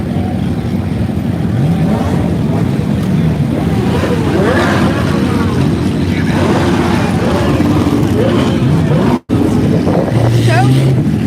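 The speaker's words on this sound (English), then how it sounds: "Now everyone's coming and revving." Car engines revving at a Coffee and Cars meet at COTA, a loud crowded outdoor rumble with engine roars swelling and fading amid wind buffeting and scattered voices.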